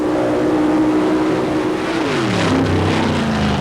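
A paddle-tire mud racer's engine roars loudly on a sand track at Bayou George, Florida, in 1990, holding a steady high drone and then dropping in pitch as it pulls away, with no talk over it.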